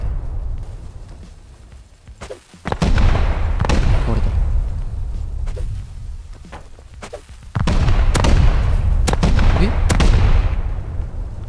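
Satchel charges in the video game Rust blowing up a base: heavy, booming explosions in two long, rumbling bursts with sharp cracks and crumbling debris, punctuated by gunfire-like pops, with people talking during the pauses.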